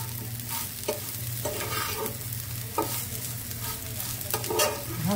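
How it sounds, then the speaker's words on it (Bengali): Fish seasoned with salt and chili powder fries in a pan, with a steady loud sizzle and repeated scraping stirs cutting through it. No one speaks. "এই যে ভেজে নিয়ে দিয়ে দিচ্ছি মাছ"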